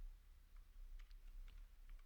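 Typing on a computer keyboard while writing Java code, heard as faint, scattered key clicks in small irregular clusters over a quiet background hiss.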